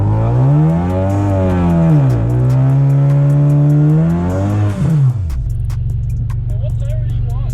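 Car launching and accelerating hard on Nitto 555R tires, engine revs climbing and shifting through gears loudly and close, then dropping to a lower drone.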